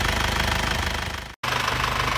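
An abnormal Isuzu Panther engine that previously overheated runs close up with a loud, rough, steady knocking chug and rapid pulsing throb, briefly cutting out for a moment before resuming.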